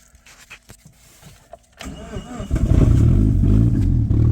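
Suzuki car engine running roughly and struggling to idle, starting up after a quiet stretch of clicks and then rumbling loud and uneven close by with a lumpy, unsteady low throb; a voice speaks briefly.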